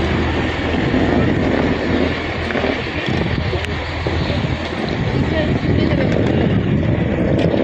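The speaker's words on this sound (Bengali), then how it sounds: "আমরা স্যালসবেরি ট্রেনে উঠে গেছি।" A train to Salisbury, UK rumbles along the rails with a steady low roar and faint rhythmic clatter, continuous and close, from inside the moving carriage.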